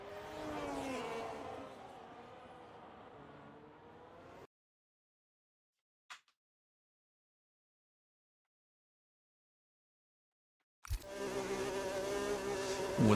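Red Bull Ford racing car engine in a racing video game: a high, buzzing whine that rises and fades over several seconds, then silence with a brief click, before another loud engine drone returns.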